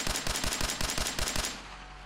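Gunfire from an automatic weapon in Fallout 4 with the Weapons of Fate mod, about a dozen sharp, evenly spaced shots in a fast burst that ends abruptly in a fading tail.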